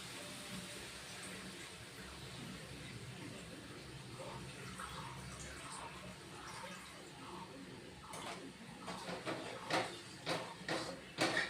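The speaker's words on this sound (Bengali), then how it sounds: "এখন জল দিয়ে দেবো" Water pours into a cooking pan while pabda fish curry is being made, a soft steady trickle that is followed by clattering bursts as the pan is handled near the end.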